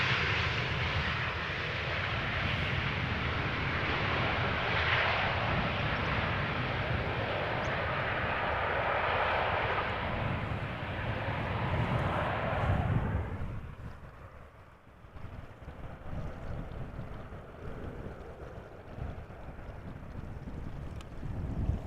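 An EasyJet Airbus A319 arriving at Amsterdam Schiphol produces a loud, steady jet roar with wind buffeting that holds for about thirteen seconds, then drops off sharply to a quieter, lingering rumble.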